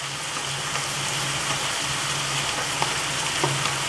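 Boiled chana dal frying in a pan, a steady soft sizzle with faint stirring clicks, moderately near and continuous throughout.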